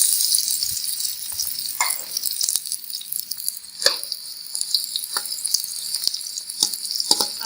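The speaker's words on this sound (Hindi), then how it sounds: "ऑयल में हम प्याज को अच्छी तरह से तल लेंगे।" Onions sizzle steadily in hot oil for a spicy chickpea cholay dish, a bright continuous crackle with occasional stirring scrapes and clicks, close and alone without talk.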